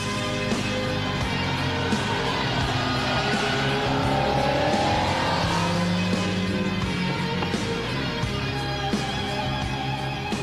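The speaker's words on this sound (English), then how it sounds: "which makes this the fastest accelerating car I've ever driven" A powerful TVR Cerberus 4.2-litre flat-plane-crank V8 engine roars steadily and revs hard, with rising pitch sweeps as it accelerates, loud and continuous with no talking.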